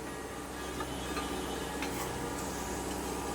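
Tal fulluri, palm fritters, deep-frying in oil as a second batch of Janmashtami bhog, with a soft continuous sizzle and faint stirring at low volume.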